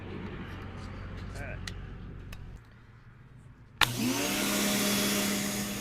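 A Canadian Tire pressure washer fitted with a 40-degree nozzle bursts into a loud, steady hissing spray that starts abruptly partway through and continues to the end, after a quieter motor hum.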